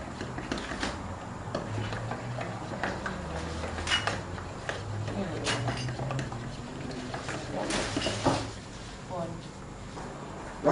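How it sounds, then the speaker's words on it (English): A fork whisks eggs in a bowl for an omelette, giving a quick, irregular ticking and clinking against the bowl at close range, heard under ongoing conversation between people in the kitchen. "So those eggs are getting nice and stirred up."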